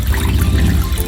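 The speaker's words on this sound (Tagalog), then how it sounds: "pupunuin natin ng tubig ang chicken para malabog na siya" River water pours into a pot over raw chicken in a steady splashing trickle, close and continuous for a moment.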